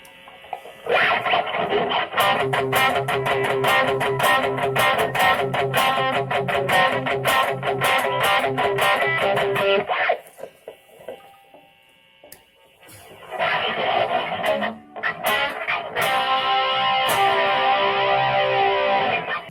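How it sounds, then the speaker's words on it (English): Distorted electric guitar through a pedalboard with a Rockman-style unit, playing fast, chugging chords and lead runs, pausing briefly, then resuming with sustained overdriven notes. "And then just the distortion."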